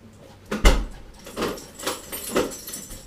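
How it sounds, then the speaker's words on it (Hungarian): A door thumps shut nearby, followed by a few lighter clicks and rattles like a key turning in the lock. "csak várjál már meg, hogy bezárjam az ajtót"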